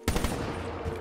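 Rapid gunfire from a custom zombies shooter game, a dense burst of loud automatic-sounding shots starting abruptly and continuing for about a second.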